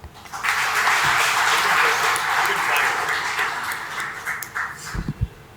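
A crowd applauds continuously, loud at first and tapering off, with a few scattered claps and noises at the end.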